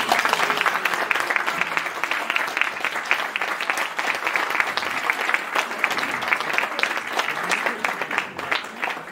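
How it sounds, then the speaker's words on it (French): An audience in a hall breaks into sustained applause, dense overlapping clapping that holds steady and loud for the full stretch with no voices standing out. "je veux vraiment que vous vous applaudissiez"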